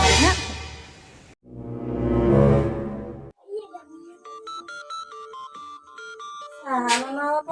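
Phone call being placed in a Sundanese comedy scene: a broad noisy burst, then a string of electronic beeping tones like dialing and a ringback, ending in a short rising chirp.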